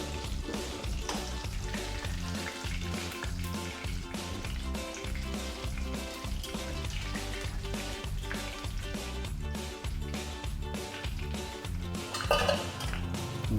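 Rohu fish pieces fry in oil for a Kolkata-style fish biryani, a steady sizzle under clinking pots and utensils, with music playing throughout.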